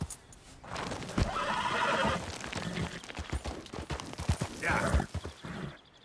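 A horse in the video game Red Dead Redemption 2 lets out a loud, drawn-out whinny while hooves clip-clop in a steady rhythm, followed by a second shorter neigh.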